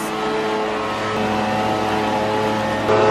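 A loud, steady engine roar with a droning whine from a street-cleaning vacuum truck running close by in Germany in autumn, swelling slightly at the end.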